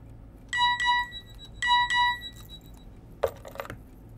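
A landline telephone rings with an incoming call, two electronic ring bursts in quick succession, followed by a few faint clinks and handling sounds.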